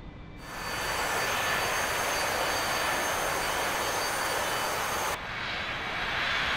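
A-4 Skyhawk jet engine spooling up for takeoff in the DCS flight simulator, a loud, steady broadband roar that holds throughout with a brief dip and change in tone near the end, no talking.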